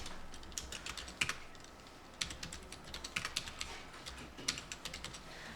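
Fingers type on a computer keyboard to fill in table data, bursts of quick, close key clicks separated by short pauses, fairly quiet over a low room hum.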